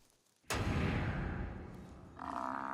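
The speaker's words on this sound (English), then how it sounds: "The naive youngsters have already picked up the irresistible sound of a lion hunt." Lions roaring during a hunt in the wild, a sudden loud, deep roar that bursts in and rumbles on, swelling again near the end, with no talk.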